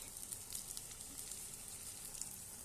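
Three eggs sizzle as they fry in a pan with spices, a steady close hiss and crackle of hot oil with no pauses.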